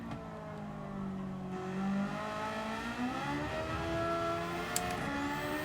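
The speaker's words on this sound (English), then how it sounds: "Launching the car on corner exit, ripping it through those gears" A race car in Gran Turismo 7 with a swapped engine launches out of a corner and rips up through the gears, its engine note climbing and dropping with each shift, loud and continuous with no talking.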